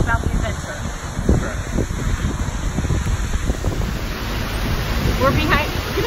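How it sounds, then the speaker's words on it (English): Waterfall roaring up close from behind the falling water on a cold, windy day, a dense, steady broadband rush with wind buffeting the microphone throughout. "We're behind the waterfall right now."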